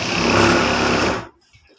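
Close and loud, a sewing machine whirs in a fast steady drone as it stitches a trouser pocket, then stops abruptly after about a second, leaving faint clicks.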